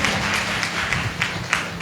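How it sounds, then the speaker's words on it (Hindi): A church congregation claps hands in praise, a steady spread of many palms beating together in a dense, moderately loud round of applause heard close by, with no voices over it. "ताली बजा के प्रभु धन्यवाद"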